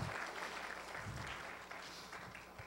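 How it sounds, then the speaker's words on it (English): An audience at a statewide candidates forum claps in a soft, distant, steady patter for a few seconds, with no voices over it. "go ahead, you can applaud"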